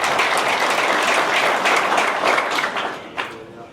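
A church congregation bursts into sustained applause, dense clapping filling the space at close range, with festive ululation and voices rising through it before the noise tapers off near the end.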